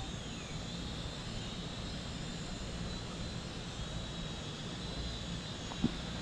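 Small budget camera drone, an Eachine E32HW clone of the MJX Bugs 5W, flying over a neighborhood, giving a steady, moderately distant whine of high-pitched motors and propellers with a faint, brief tap near the end.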